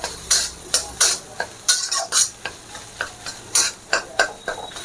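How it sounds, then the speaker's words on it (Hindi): Moong dal kachoris fry submerged in hot oil in a kadhai, a bubbling sizzle broken by a series of sharp rhythmic bursts, loud and close. "तेल कढ़ाई में इतना हो कि आपका कचौरी बिल्कुल डूब जाए और अच्छे से फ्राई हो"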